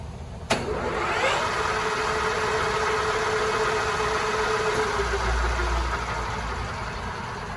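A DoAll Romi LS-1780 lathe runs at 1060 RPM, starting with a sharp click and then settling into a steady mechanical whine and hum that holds at a constant level throughout.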